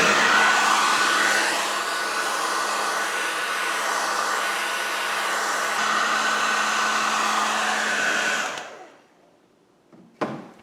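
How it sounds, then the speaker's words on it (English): A hair dryer blows with a loud, steady whooshing roar for about eight seconds, then switches off and winds down, leaving near silence. "I'm going to dry that with a hairdryer"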